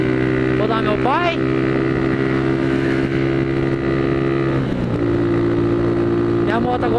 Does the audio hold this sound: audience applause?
no